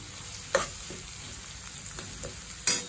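Onions frying with salt in a pan give off a steady sizzle, broken by two sharper scraping stirs near the start and the end.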